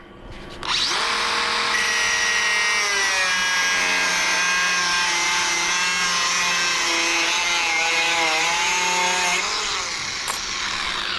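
A power tool, likely an angle grinder, cuts off a marked piece of metal for a homemade FG knot puller, giving a loud, steady high-pitched whine that runs for about nine seconds with no talk.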